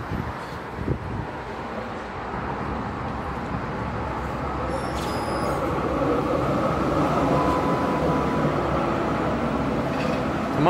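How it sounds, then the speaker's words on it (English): A tram in Melbourne, Australia rumbles closer, its steady low roar slowly growing louder over about ten seconds, with a faint squeal riding on top. "Tram is approaching."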